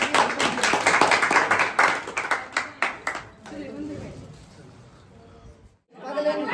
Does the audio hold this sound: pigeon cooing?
no